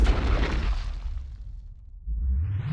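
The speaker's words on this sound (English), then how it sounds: "I'm gonna take a watermelon and we're gonna do a point blank test to see what the rock salt will do point blank" A 12-gauge shotgun loaded with rock salt blasts a watermelon at point-blank range outdoors, one loud booming report that decays over about two seconds before a low rumble returns.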